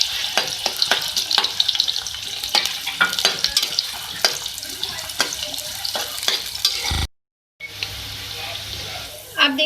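Medium-sized onion frying in oil in a kadai: close sizzling with repeated stirring and scraping strokes, a brief silent gap near the end, then the sizzle resumes, no talk.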